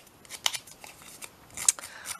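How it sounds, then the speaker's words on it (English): Scissors scrape and snip along the edge of a chunky paper tag to distress it, a string of short crisp cuts and rasps, close and fairly quiet, with a sharper burst near the end. "So I'm going to use my scissors."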